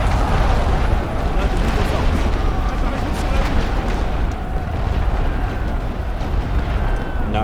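Continuous deep rumbling barrage of artillery shells bursting in a Great War Western Front strategy game, a dense, heavy wash of overlapping booms with no breaks, while someone talks over it.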